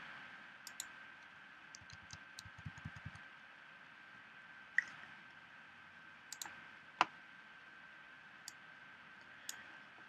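Sparse, quiet computer mouse clicks sound while working in Adobe Illustrator, single and double clicks spaced irregularly, with a brief burst of faint tapping early on and a soft electronic hum behind.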